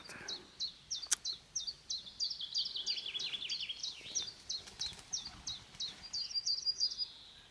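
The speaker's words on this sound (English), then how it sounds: "all the birds are fleeing" Birds in a Nordic permaculture food forest in the early morning, giving a steady run of bright, repeated chirps and short song phrases, fairly faint and unaccompanied by voices.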